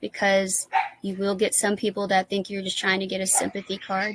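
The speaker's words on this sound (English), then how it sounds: "You can probably hear my dogs in the background." Several pet dogs bark and yip in the background of a home conversation, their short bursts partly masked by continuous close speech from someone talking throughout.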